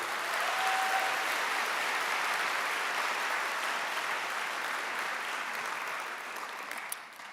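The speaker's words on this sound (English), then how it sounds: "Give them a round of applause, everybody." A graduation audience applauds a brass ensemble with dense, sustained clapping that fills the hall steadily for several seconds before thinning slightly at the end.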